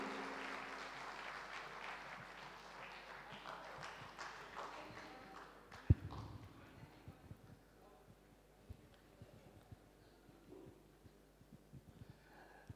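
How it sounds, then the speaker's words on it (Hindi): A hall audience at a musical evening claps loudly to welcome a performer, then the applause thins out after a sharp knock midway, leaving scattered claps and soft room noise. "ज़ोरदार तालियों से वेलकम करेंगे"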